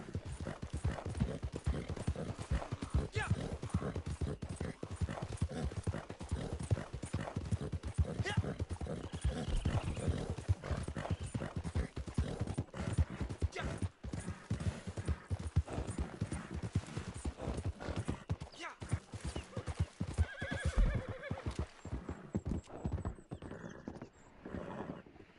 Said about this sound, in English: It's a decent horse.